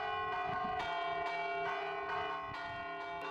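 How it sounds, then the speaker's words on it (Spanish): Church bells rung by hand in Alusante, Guadalajara, sound in repeated ringing strikes with long, shimmering metallic tones that overlap and sustain, heard clearly at moderate distance with no voices. "Este toque de campanas en Alusante, en Guadalajara, ha sido declarado bien de interés cultural"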